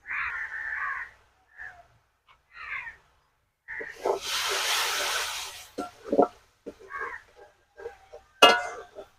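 Water poured onto spices frying in a pan for a spiced goat tripe dish bursts into a loud hiss of sizzling that settles into softer crackles, with short bits of talk around it.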